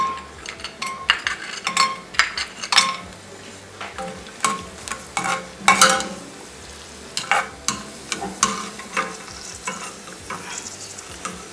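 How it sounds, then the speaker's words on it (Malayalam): Cashew nuts fry in ghee in a small pan, giving a soft steady sizzle broken by frequent sharp clinks and scrapes of a spoon stirring against metal. "രണ്ട് ടേബിൾ സ്പൂൺ നെയ്യ് ഒഴിച്ചിട്ട് ചെറിയൊരു പാത്രത്തിൽ ഒഴിച്ച് നമുക്ക് കാഷ്യൂ നട്ട് ഫ്രൈ ചെയ്തെടുക്കാം."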